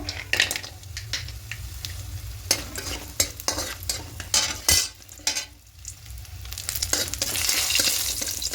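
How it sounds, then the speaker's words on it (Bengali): Dried lentil dumplings (bori) fry in a pan with dried red chilli while a utensil stirs and scrapes them, giving a steady close sizzle broken by repeated clinking strokes against the pan. "বড়িগুলো লাল করে ভাজা হয়ে গেছে।"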